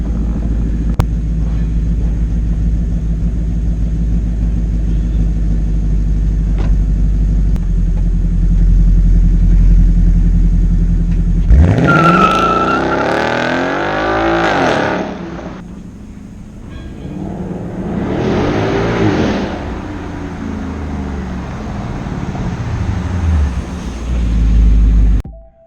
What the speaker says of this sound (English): See if the Mustang could do a no brake burnout